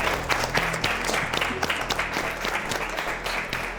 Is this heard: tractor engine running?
no